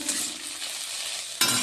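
Food fries in a pan in a home kitchen with a steady broadband sizzle and faint stirring scrapes, then a sudden louder burst of sizzling near the end as more goes in.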